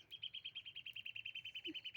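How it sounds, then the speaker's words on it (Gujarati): A bird repeats a rapid, steady series of high chirps, evenly spaced, fairly faint against a quiet background, ending with a brief louder sound. "પક્ષી પણ બોલે છે"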